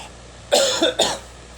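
Two sharp coughs in quick succession, loud and close, with quiet room noise before and after.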